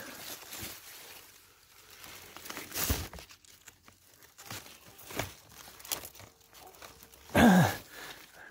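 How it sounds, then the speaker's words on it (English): A few quiet, crunchy scissor snips through a stiff courgette stem come at irregular intervals, separated by soft rustling of leaves and stems close by. "Quite stiff to cut with a pair of scissors."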